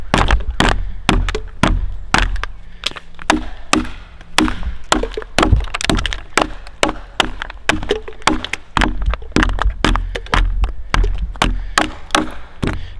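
A hammer knocks out the wood left between kerf cuts while a tenon is cut. Sharp, loud wooden chops and thunks strike in a quick, fairly regular rhythm throughout, with no talking.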